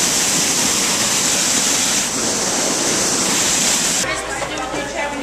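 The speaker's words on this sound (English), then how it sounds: "there's a waterfall" A waterfall at the Los Angeles Zoo roars steadily and loudly, a dense rushing wash of water that fills the whole scene.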